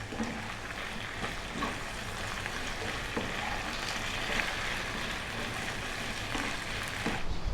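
Onions frying with salt in a pan on medium heat, a continuous dense sizzle and crackle holding steady throughout without talk.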